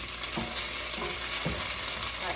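Basil paste being stirred into a simmering marinara sauce, soft rhythmic scraping strokes over a steady bubbling sizzle, close and continuous.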